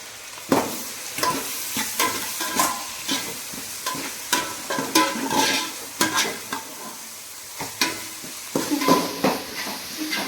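Ginger garlic paste, green chili and tomato frying in a pan, steady sizzling broken by repeated clattering stirs and scrapes of a spoon against the pan.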